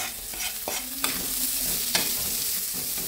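Shallots hit a pan of frying garlic with a steady, loud sizzle, while a utensil stirs and scrapes against the pan in occasional strokes.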